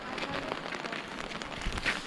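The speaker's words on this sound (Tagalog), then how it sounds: "Okay, it's raining guys." Steady rain falling outside a village house, a dense even patter with occasional louder drops, moderately near and continuous throughout.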